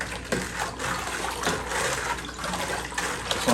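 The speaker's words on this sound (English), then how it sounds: "now we'll take our spoon and we'll go ahead and stir everything up here good" A spoon stirs strawberry wine must in a container, producing soft liquid swishes and trickling sloshes with occasional light knocks, close and fairly quiet.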